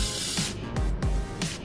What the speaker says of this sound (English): I'm going to go ahead and spray my tin down. I bought some Pam baking spray.